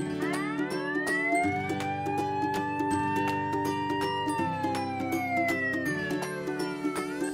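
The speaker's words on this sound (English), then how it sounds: "Fire engine." A fire engine siren wails in long rising and falling sweeps over a steady, loud, close pulsing horn-like drone that continues throughout, with no talk.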